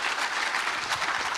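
Audience applause at a university entrepreneurial fair, a dense, even patter of many hands clapping close by, filling the short moment without any talk.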